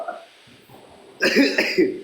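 A soft voice murmurs briefly, then a person lets out a few harsh, close coughs in quick succession.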